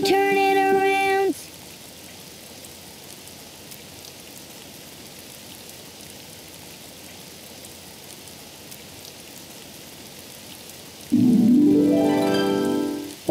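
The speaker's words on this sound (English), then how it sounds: "it's raining outside" Rain falling in a Daniel Tiger children's video game, a steady soft patter of drops heard alone, with short bright musical chimes at the start and end.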